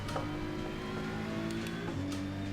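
A Honda race car drives over the bumps at the Bathurst circuit, its engine droning loudly and steadily. The pitch shifts partway through as the car changes gear, and no one speaks.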